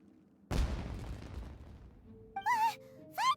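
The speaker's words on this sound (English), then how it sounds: "Was that an explosion?" A single loud blast erupts in the Genshin Impact video game, booming and then rumbling away over about a second, followed by short vocal exclamations.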